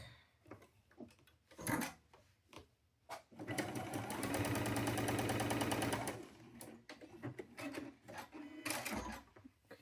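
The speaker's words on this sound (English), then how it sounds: "let me sew these together real quick" Sewing machine stitching fabric pieces together, heard as a steady loud run of rapid stitching lasting about two seconds, with scattered handling clicks and rustles before and after.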